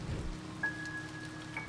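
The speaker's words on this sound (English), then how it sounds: "It's not getting wet from the rain." Rain and thunder in the video game Finding Paradise, a steady wash of rainfall with a low rumble at the start, continuous and moderately quiet, with no talk.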